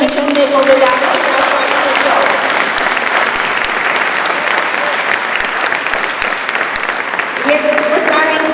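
Concert audience applauding at a jubilee music concert, sustained, even clapping from a large hall crowd, with a voice and some musical tones heard at the start and end.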